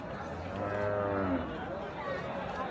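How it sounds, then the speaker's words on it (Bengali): A cow lows once, a fairly faint, drawn-out moo at the Fatullah cattle market on the eve of Eid, with a quiet background murmur around it. "এখানেও দুইটা গরু আছে"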